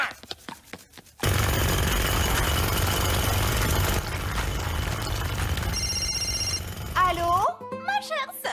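A telephone rings in an animated French cartoon about a small fairy kingdom, its bell-like tone cutting in loudly over a dense, busy background of music and effects, followed by high chirping sound effects near the end.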